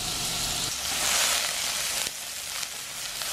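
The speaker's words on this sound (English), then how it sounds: "And we wanna keep stir frying this until the mushrooms start to release their water." Wood ear mushrooms sizzling in oil in a hot wok over high heat, a steady loud frying hiss with stirring scrapes and shifts in intensity as they are tossed.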